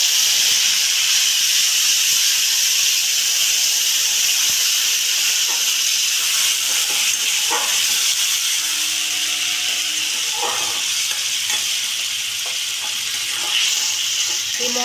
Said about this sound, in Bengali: এই মশলাটা আমি একটু কষিয়ে নিচ্ছি, যাতে আদা রসুন আর টমেটোর কাঁচা গন্ধটা না থাকে।